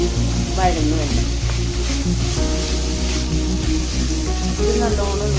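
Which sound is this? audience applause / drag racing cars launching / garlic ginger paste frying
garlic ginger paste frying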